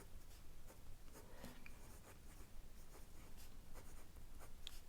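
A fountain pen nib glides over paper in quick, soft scratchy strokes, close and quiet, with short pauses between bursts of writing and no voices.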